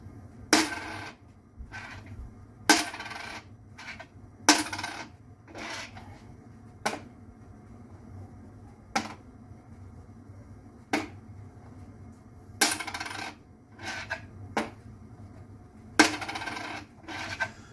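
A quarter coin dropped repeatedly onto loudspeakers, some treated with butyl rubber and some not, giving sharp metallic clicks and taps at irregular intervals. Some strikes ring with more resonance while others land dull and short, all over a faint background hum.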